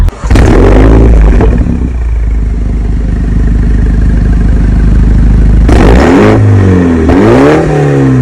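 A Mini Cooper JCW engine fires up with a loud bark, settles into a rumbling idle, then gets blipped in two sharp revs, close and dominant with no talking.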